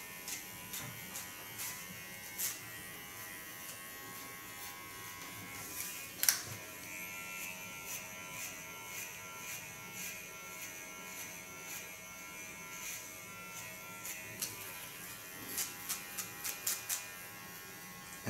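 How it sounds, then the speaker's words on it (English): Theo Knoop hair clipper with a ceramic blade cutting a contour line on an asymmetric haircut, a faint steady electric buzz with light crisp ticks and snips scattered throughout, loudest around the middle and near the end. "this Theo Knoop clipper has a ceramic blade, and that you can see because it makes ultra sharp lines"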